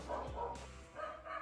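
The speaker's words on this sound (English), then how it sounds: "It's been like 20 minutes and dogs are still barking." Dogs bark in the distance outdoors, a couple of muffled woofs followed by higher yips and a whimper, moderately faint and alone without talk.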